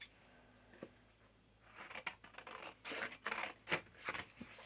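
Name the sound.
trimming a mixed media piece with scissors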